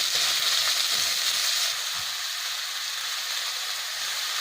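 Green chilli and onion sizzling in hot oil in a pan, a loud, steady hiss that stays continuous throughout, heard alone and close.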